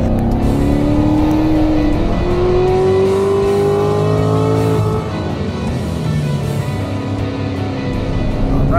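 2017 Chevrolet Corvette Grand Sport on a racetrack, its engine revving up in steady rising sweeps, easing off, then building again, loud and continuous with no talking.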